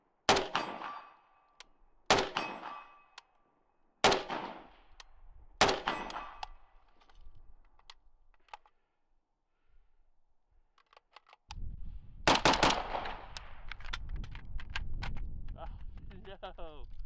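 WASR-10 AK rifle shots ring out outdoors: four sharp, loud single cracks spaced about two seconds apart, a quiet pause, then a burst of rapid fire followed by a sustained noisy rumble.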